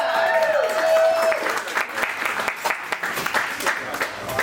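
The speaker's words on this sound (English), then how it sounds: "We have to give you guys a round of applause" Comedy show audience breaking into a round of applause, dense clapping from a crowd filling the room, loud and close, with a voice calling out briefly at the start before the clapping carries on alone.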